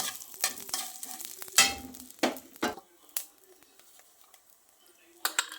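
Garlic and chillies frying in a pan, with scattered scraping and stirring strokes over a low sizzle, some louder clatters standing out.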